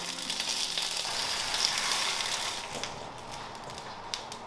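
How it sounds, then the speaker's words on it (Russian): Bell peppers frying in a hot pan, a steady close hiss and crackle of sizzling oil that eases off slightly toward the end, with no talking. "Далее на сковородке поджариваем перец"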